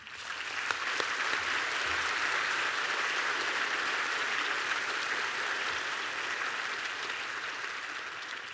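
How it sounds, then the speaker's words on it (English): Guests at a university graduation ceremony break into sustained applause, a broad, steady roar of many hands clapping in a large hall, with no speech over it. "Give them a round of applause."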